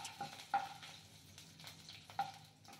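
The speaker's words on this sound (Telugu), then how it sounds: "పోపు బాగా ఫ్రై అవ్వనివ్వండి." Tempering spices fry in hot oil in a kadai while a mushroom curry is being made, giving a faint, low sizzle broken by a few sharp pops and spatters.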